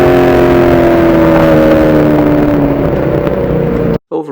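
A 1978 Ford Fairmont race car screams along a racetrack at around 120 mph, its loud engine drone steady and close for about four seconds before cutting off abruptly.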